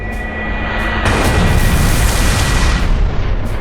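The Lunar Cannon attack in the game Manamon 2 bursts out as a loud, sustained explosive boom with a rumbling roar that swells after about a second and then fades.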